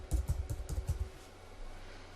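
Rapid bursts of keystrokes on a computer keyboard while text is typed into a layout program, about six close, crisp clicks in quick rhythm, then quiet room tone with no talking.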